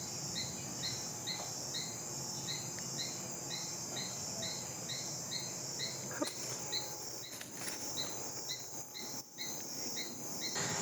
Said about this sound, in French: j'ai réussi à trouver une grenouille qui chante